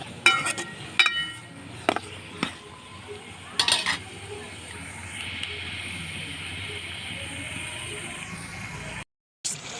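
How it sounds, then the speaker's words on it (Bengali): Onion and tomato being sautéed in oil in a home kitchen, with a few sharp utensil clinks and stirring scrapes early on, then a steady soft sizzle that continues close by before a brief drop-out. "টমেটোটা দিয়ে দিলাম তো এটা একটু কষিয়ে নিব এখানে তেলের মধ্যে"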